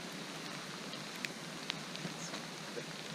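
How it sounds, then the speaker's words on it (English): Light rain patters steadily at a canoe access point in Algonquin Park, with occasional brighter drips and taps standing out against the soft, even hiss. "here we are in the rain at Shell Access Point"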